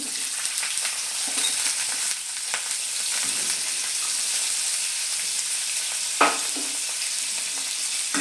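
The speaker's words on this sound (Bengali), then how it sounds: "এবার এর মধ্যে আমি একটা বড় সাইজের পেঁয়াজ কুচিয়ে রেখেছিলাম স্লাইস করে, সেটা দিয়ে দিচ্ছি।" A large sliced onion frying in hot oil on medium-low heat alongside dried chilli, a continuous close sizzle and crackle throughout with occasional light stirring knocks.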